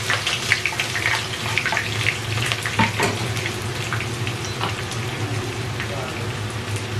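Onions go into a hot pot for chicken biryani, setting off a steady, close sizzle and bubbling with scattered stirring clicks throughout.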